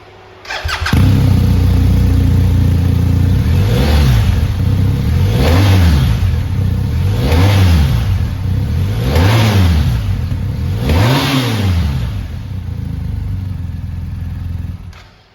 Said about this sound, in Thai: มาฟังเสียงเครื่องยนต์กันดีกว่า